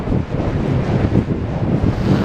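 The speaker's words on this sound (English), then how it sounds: "although it's going to be a super windy video." Strong wind buffets the microphone on an empty seaside promenade along the Golden Mile, a loud, continuous low roar with gusty swells and no talk.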